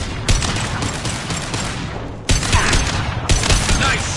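Loud gunfire in a PS4 video game, with a heavy sustained burst followed by a second sharp volley of shots and crashing impacts.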